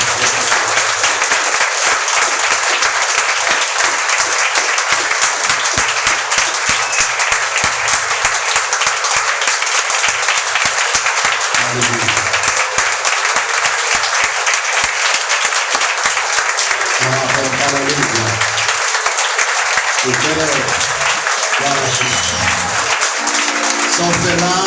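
A church congregation applauds at a New Year's Eve service, the clapping steady and loud throughout, with a voice speaking over it toward the end.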